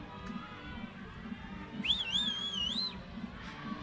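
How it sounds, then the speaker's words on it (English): Spectators whistling in the crowd at an IFSC climbing World Cup lead final in Jakarta, a single rising and wavering whistle lasting about a second, close by over a steady murmur of arena noise. "That whistling, by the way, is because the crowd are right next to us here."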